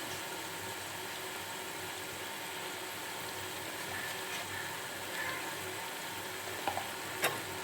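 Goat meat seasoned with chili powder, salt and turmeric sizzles steadily in a hot pan, a constant close frying hiss with a few sharp clicks of stirring near the end.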